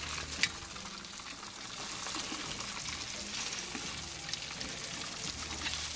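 Bratwurst sausages and freshly chopped garlic sizzle in a pan as they are stirred, a continuous close frying hiss with a sharp clack near the start and soft scraping throughout, no talking.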